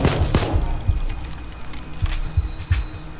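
Bursts of gunfire in PayDay 2, several sharp shots in an irregular rhythm, some clustered, with low thuds in between, fairly close and loud.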